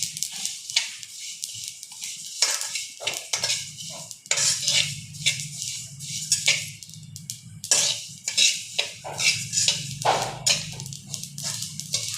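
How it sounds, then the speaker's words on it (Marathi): Sesame seeds are dry-roasted in a pan and stirred, with repeated close scraping and rattling strokes in an uneven rhythm over a low background hum. "एकसारखं त्याला हलवत राहायचं आहे म्हणजे ते करपणार नाहीत"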